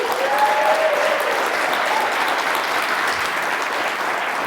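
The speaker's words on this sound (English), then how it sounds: "First, a round of applause for the organizers" Sustained round of applause from a conference audience, a dense, even wash of many hands clapping at once, loud and close throughout with a faint whistle-like tone near the start.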